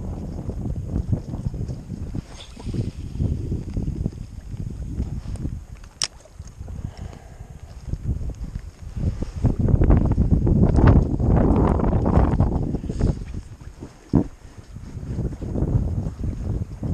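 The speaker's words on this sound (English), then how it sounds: "so I apologize for the heavy wind sound that is coming" Strong gusting wind buffets the microphone beside a pond, a continuous rumbling roar that swells louder in the middle and eases off, with a few faint knocks and no talk.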